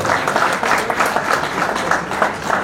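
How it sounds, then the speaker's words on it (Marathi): An audience claps loudly and continuously at the Khandesh Sanman 2021 award ceremony, with dense, rapid hand claps, sounding close and full throughout. "आपल्या शाळांमध्ये जोरदार टाळ्या होऊन जाऊ द्या"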